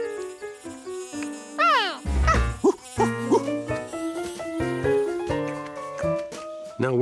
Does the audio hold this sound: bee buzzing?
yes